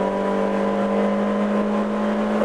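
Honda Civic with aftermarket exhaust accelerating, a steady loud droning engine note holding high revs, heard from close by.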